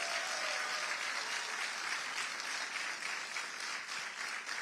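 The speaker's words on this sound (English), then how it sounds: "Let's give him another round of applause." An audience at a public event with Governor Hochul and Congressman Ritchie Torres gives a round of applause, dense steady clapping that fills the whole stretch and then thins slightly toward the end.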